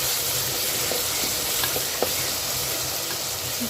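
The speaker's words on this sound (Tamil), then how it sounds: "இந்த வெங்காயத்தை நல்லா வதங்குற வரை வச்சுக்கலாம்." Onions sautéing in a pan for a mutton head curry, a steady broad sizzle running throughout with a few faint stirring scrapes, close and alone.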